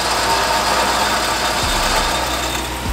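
Warn 12,000 lb winch on a 2022 Ram 2500 Power Wagon spooling in cable, a loud continuous mechanical whir and hum with steady engine-like noise, close by and unbroken throughout.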